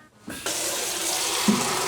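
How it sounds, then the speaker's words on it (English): Hot water gushes from a tap into a plastic half-gallon jug, a steady close splashing stream that starts abruptly and runs continuously with a slight bump near the end. "I'm going to need 6 of these to make 3 gallons of hot water."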